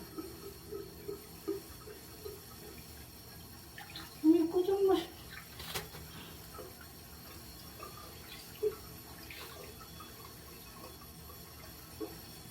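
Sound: washing a kitten in bath water

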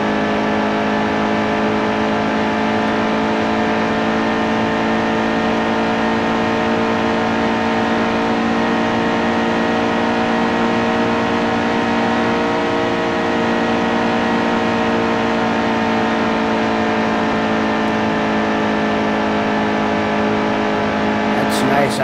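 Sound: race car engine at full throttle in NASCAR Heat 2 video game

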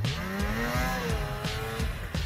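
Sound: motorcycle engine at full throttle on a slope

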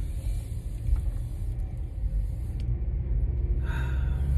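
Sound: car driving, interior road rumble

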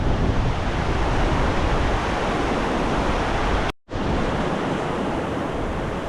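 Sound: river water flowing past a small culvert bridge

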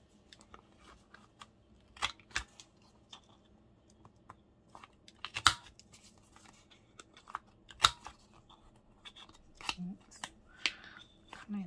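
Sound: cutting paper corners to round them

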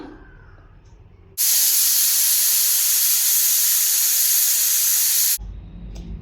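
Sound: pressure cooker whistle releasing steam while cooking chickpeas

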